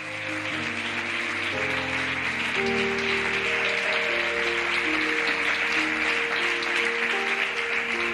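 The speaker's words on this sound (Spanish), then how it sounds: "¿Puede darle un aplauso a Dios por esto?" Church congregation applauding at a sermon on forgiveness, a steady broadband patter sustained for the full span, with a sustained musical tone, likely organ or keyboard, playing chords underneath.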